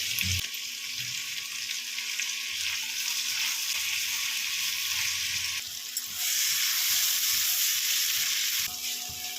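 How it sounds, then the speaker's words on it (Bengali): Capsicum and other vegetables fry with salt in a pan, giving a steady, moderately loud sizzle with intermittent stirring scrapes throughout. "ক্যাপসিকাম খুব তাড়াতাড়ি নরম হয়ে যায় একটু লবণ দিয়ে দিলাম ছোট চামচে হাফ চামচ লবণ দিয়ে ভেজে দিই"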